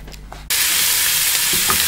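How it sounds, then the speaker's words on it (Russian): After a brief quieter moment, a loud, steady sizzle erupts as onion hits a hot frying pan and keeps crackling. "Лук у нас зашипел"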